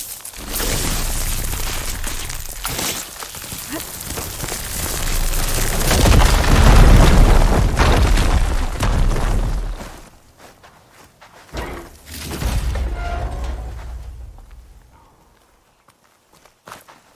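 Explosion set off with an igniter in Horizon Forbidden West, a heavy rumbling blast that swells and then fades, followed by footsteps and a second smaller burst that dies away.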